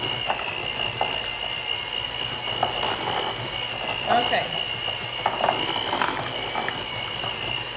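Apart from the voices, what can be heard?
mixer blending cream cheese and sugar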